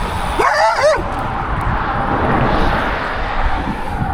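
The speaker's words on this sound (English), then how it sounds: "300 miles to go and a pack of dogs." Dogs bark at a cyclist out on the road, a brief cluster of sharp barks early on and then a steady rushing wind or road noise that carries on alone.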